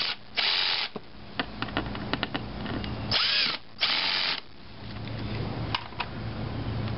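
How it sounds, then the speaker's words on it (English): A power drill drives a screw for an LED signal light in short bursts, several spins of a second or so separated by pauses and small clicks, close and clear. "Take a drill, ensure that you have the torque set down."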